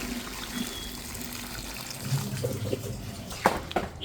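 Hot water pours into a pan of duck curry tempered with dried red chili and cumin, making a steady close-up splashing trickle that swells briefly before settling, with no voices.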